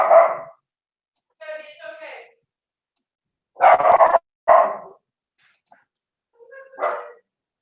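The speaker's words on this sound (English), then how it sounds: "my dog's going crazy" A pet dog barks indoors in a few separate bursts with pauses between them, close and fairly loud.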